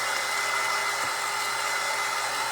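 A hair dryer blowing on St. Patrick's Day shamrock craft pieces, a steady loud whooshing motor hum running unbroken throughout with no voices.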